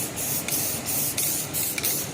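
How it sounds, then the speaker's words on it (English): Barbecue paint sprays onto a mower muffler in a loud, close, continuous hiss, pulsing in short, regular bursts as the nozzle is pressed. "you might as well barbecue paint a muffler"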